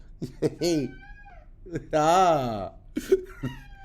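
A domestic cat meows several times at close range, with short cries and one longer drawn-out wail in the middle, loud and alone with no talk.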